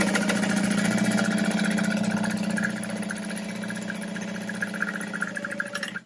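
A sewing machine stitches the back panel of a tote bag with zippered pocket pieces: a steady, close motor hum with rapid needle pulsing that runs continuously, easing slightly in level partway through.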